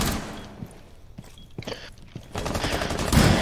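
Gunfire in the video game Rainbow Six Siege, sharp scattered shots and bursts of automatic fire building into a louder, denser volley near the end.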